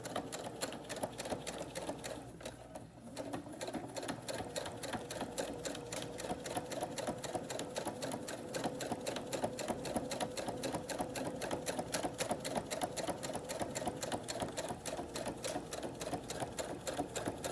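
Sewing machine stitching across a thick seam of a drawstring bag, a rapid steady mechanical whirring and clatter running continuously with a brief slowdown near the start, heard alone.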